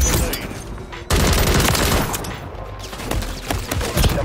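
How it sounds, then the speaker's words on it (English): Call of Duty MW3 gunfire rattles in rapid bursts as a player takes hits. The sound is loud and close, with a sharp jump in intensity partway through and continuous chatter of shots. "Oh shit, I'm getting shot on my back"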